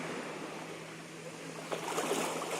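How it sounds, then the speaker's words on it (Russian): Sea waves wash steadily onto the shore at Yalta in October, a continuous close rushing hiss with a slightly stronger surge near the end, no voices. "Какие волны."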